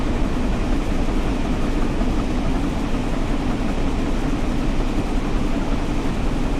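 A steam train climbs uphill and gathers speed in Train Sim World 4, reverser at 50, giving a steady dense rumble and hiss that stays loud and unbroken with no separate chuffs.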